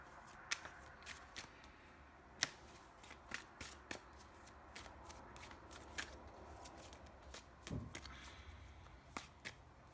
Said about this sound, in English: And now I've got to draw another card for the subconscious.